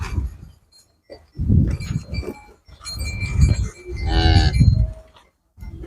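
Several farm cows for sale moo loudly and close by, one long low call after another with brief pauses, and a faint clank like a cowbell.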